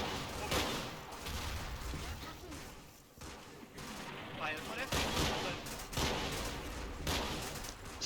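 Heavy gunfire in the World War II game Combat Mission during a mountainside battle at Monte Cassino, with continuous overlapping rifle and machine-gun bursts, sharp cracks and distant booms rolling without pause, moderately loud throughout.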